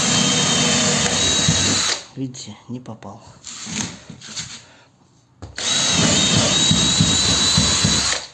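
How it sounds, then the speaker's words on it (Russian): A power drill bores through wooden floorboards toward a joist under a creaky floor, whining loudly in two long bursts with someone speaking briefly in the pause between them. "сверлю."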